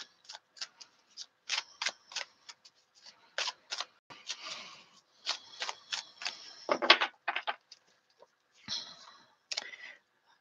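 Tarot cards are shuffled up close, producing crisp, irregular clicks and flicks in bursts, with brief quiet gaps between them and a soft riffling flutter partway through.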